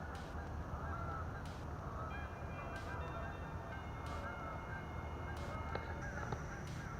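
Geese honk repeatedly at a distance on a foggy early morning by a sand beach, their calls faint and scattered over a steady outdoor hiss.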